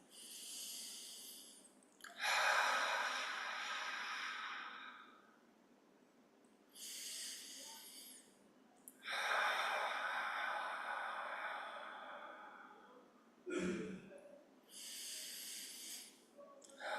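Several slow, deep breaths drawn in through the nose and pushed out through the mouth, audible and close, with quiet pauses between during a guided calming exercise.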